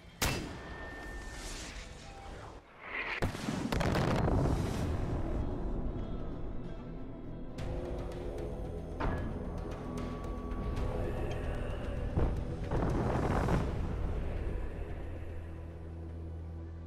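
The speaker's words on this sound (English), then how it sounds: "See, at least this mortar clusters instead of just one shell like it is in 5 and New Dawn." Cluster mortar shells from a Far Cry game burst in a rapid series of heavy explosions, with a loud rolling barrage around three to four seconds and further rumbling blasts and gunfire trailing off afterward.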